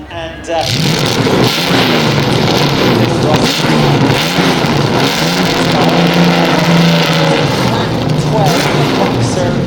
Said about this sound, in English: This is the evolution of the first Testa Rossa, the 512 TR